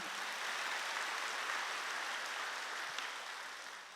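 Church congregation applauding during a sermon, a sustained dense wash of clapping from many hands, steady and then slowly fading near the end.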